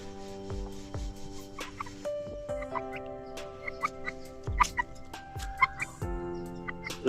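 Chickens suffering from a respiratory illness that causes snoring and snot cluck and call in short, scattered bursts, fairly close and quiet, with no talking.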